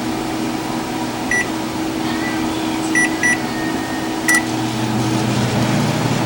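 A microwave oven hums steadily at close range with a low, even drone, joined by a few short, faint electronic beeps partway through.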